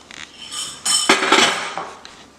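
A spoon clinks and scrapes against a bowl as beaten eggs are stirred into Bajan conkie batter, a few irregular close knocks and rattles with no voices.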